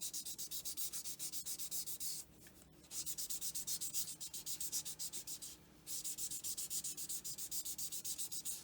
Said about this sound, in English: I'll go in with the next size down, as you would with your sanding papers